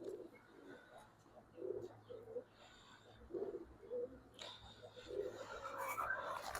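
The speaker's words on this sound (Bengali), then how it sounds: "এ হচ্ছে আরেকটা কবুতর" Pigeons, including a silver adult female, give soft low coos in short repeated bursts over a steady background hum, with brisker rustling and calling rising toward the end.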